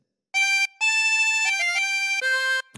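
Phrase nine of a theme played on harmonica, a few long sustained notes that step between pitches with brief breaks, bright, reedy and close, with no voice.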